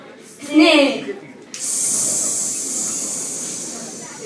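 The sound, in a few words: hissing snake imitated in a Chinese zodiac puppet show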